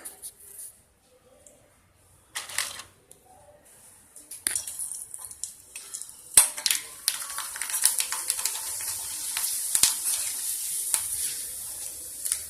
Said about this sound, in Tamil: ஓமப்படி படம் இதை இப்போ பொறிச்சு காட்டுறேன்